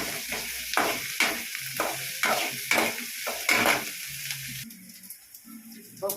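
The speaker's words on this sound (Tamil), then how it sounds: "இந்த பச்சை மிளகாயும் போட்டுருவோம். ஃப்ரெண்ட்ஸ், இப்போ நல்லா வதக்கிடுவோம்." Onions and green chillies sautéing in a pan, a close crackling sizzle punctuated by a regular series of scraping spatula strokes, then quieting toward the end with no talk.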